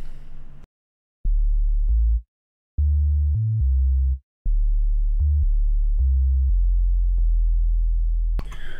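A clean, deep 808 bass patch in Serum holds a run of low notes, some long and sustained, some short, with brief silences between, dry and unadorned.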